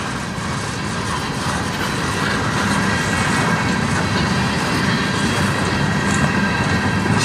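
CN locomotives 3257, 3847 and 3868 haul a manifest train through a blizzard in Sarnia, a loud, steady rumble and roar of engines and rolling cars continuing throughout.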